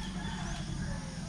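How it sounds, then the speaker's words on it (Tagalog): Small bantam rooster on a mountain farm, clucking and calling close by in a short burst over steady outdoor background noise. "Look at the short roster. Very small roster."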